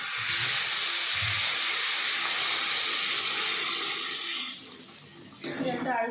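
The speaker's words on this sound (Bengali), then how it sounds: "এবার এটার মধ্যে অ্যাড করবো জল" Water pours into a pot of cooking daliya khichdi, a loud steady hissing rush lasting several seconds before it thins out, followed by faint tail sounds.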